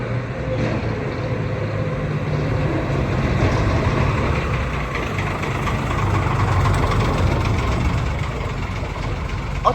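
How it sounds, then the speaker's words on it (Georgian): A garbage truck engine idles with a steady low rumble throughout, loud and near, without a break. "საათზე მოდის ნაგვის მანქანა"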